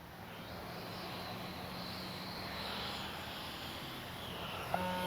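A small jet engine whines steadily overhead, its pitch sweeping slightly as an FMS Avanti S 90mm RC jet passes low at moderate distance.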